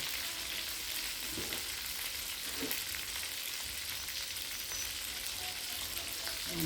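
Food cooking in a pot or pan over heat in a home kitchen, a steady bubbling sizzle that runs throughout with faint clinks and stirring, close by and even in level, with no talking.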